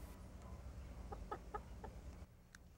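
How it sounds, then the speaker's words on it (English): A few soft clucks from a pet rooster in Puerto Rico, close by but faint, over a steady low background hum. "I also have a pet rooster"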